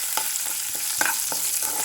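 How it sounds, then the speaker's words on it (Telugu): Blended mint chutney stirred into hot tempering in a pan, a steady sizzle with repeated spoon scrapes about every third of a second, close and fairly loud with no voices. "ఇప్పుడు మనం మిక్సీ పట్టుకున్న పుదీనా పచ్చడిని అయితే ఇందులోకి వేసి అయితే కలుపుకుంటే సరిపోతుంది."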